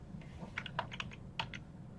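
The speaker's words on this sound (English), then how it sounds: "Typing, I mean typing, sorry." Light, quiet clicks of keys on a computer keyboard, a short irregular run of taps over a faint steady background hum.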